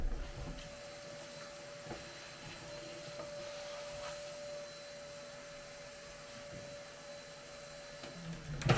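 A vacuum cleaner runs steadily at a moderate distance while sawdust is cleaned up in a workshop. Its even whine and airflow roar go on throughout, with a few faint knocks near the end.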